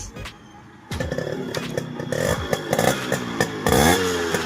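A Yamaha RX135 motorcycle with its stock silencer runs close by, idling unevenly before revving up sharply twice, its engine note climbing and dropping with clattery, throaty bursts.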